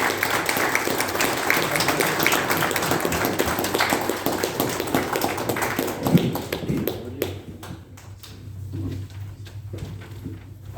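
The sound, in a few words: audience applause welcoming a speaker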